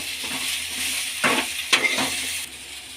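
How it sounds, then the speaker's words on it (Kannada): Onions frying in a pan for street-style masala puri, a steady close sizzle broken by a few scraping stirs of a spoon, with no voices. "ಈಗ ಈರುಳ್ಳಿನ ಚೆನ್ನಾಗಿ ಹುರ್ಕೊಳ್ಳೋಣ ಕೆಂಪಾಳಾಗಲಿ"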